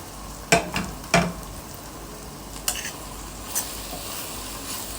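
Freekeh with onion, tomato and green chilli is stirred in a pan under a soft, steady sizzle. A few sharp clicks of a spoon against the pan stand out, with no talking.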